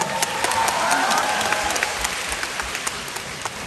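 An audience at a Deyunshe crosstalk comedy show in Changsha applauds, a dense wash of clapping from a theatre crowd that swells and then slowly thins.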